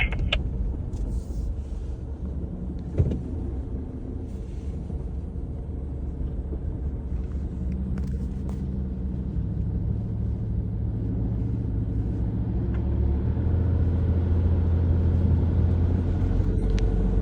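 A car driving slowly through mud: a low, continuous engine rumble that grows heavier toward the end, with an occasional clunk or knock, and no talk.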